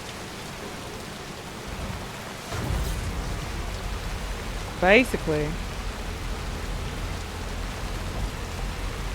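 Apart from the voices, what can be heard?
constant rain in the video game Death Stranding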